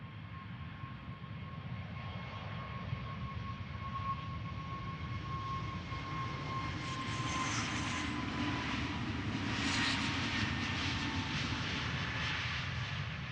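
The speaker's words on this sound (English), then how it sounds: "Flight 507, 737 MAX 8, 5 years old." A five-year-old Boeing 737 MAX 8 departing Amsterdam Schiphol roars steadily, its engine noise swelling and broadening as it passes close by, then holding at a loud, even level.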